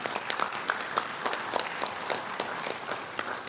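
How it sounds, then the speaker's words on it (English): Conference audience applauding a speaker named Jonathan Quash at a men's conference, a dense, moderately distant patter of many clapping hands sustained throughout. "Let's give Jonathan Quash another round of applause."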